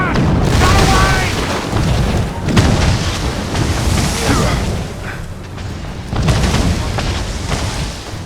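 Ship cannons fire in the Assassin's Creed Rogue video game, with repeated heavy booming blasts rolling out one after another under shouted lines, loud and close with a long rumbling decay.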